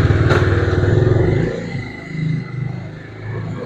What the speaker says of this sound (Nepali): मेरो बाइक चाहिँ अब रेडी भइसक्यो